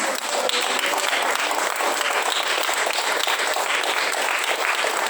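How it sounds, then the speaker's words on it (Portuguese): A church congregation at a worship and communion service claps in sustained, dense applause that holds at an even, loud level throughout, with no talking over it. "dê um aplauso a Ele"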